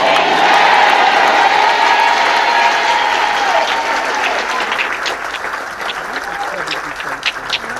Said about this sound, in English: Just as you keep clapping